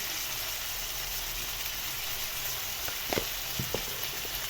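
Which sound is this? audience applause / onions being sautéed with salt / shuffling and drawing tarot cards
onions being sautéed with salt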